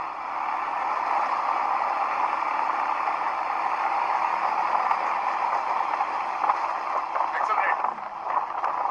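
An ATV engine pulling uphill on a Ladakh trail, a steady droning roar held at high revs throughout, heard close with wind rush over the microphone and some rattling toward the end.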